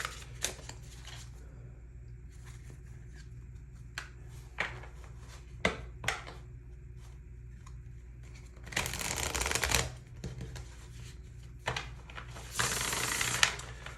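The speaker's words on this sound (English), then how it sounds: "Now I'm gonna pull some tarot cards." Tarot cards shuffled by hand in two short riffling bursts, each lasting about a second, with light taps and card handling in between, close and fairly quiet with no talk.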